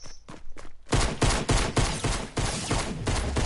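Video game gunfire: a few sparse shots, then a sustained, loud, rapid volley of cracking bursts that continues to the end, with no voices.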